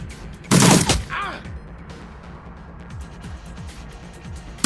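Gunfire aimed at a demon in the video game Shadowrun Returns: one loud, close burst of shots near the start, then fainter scattered impacts over a low background.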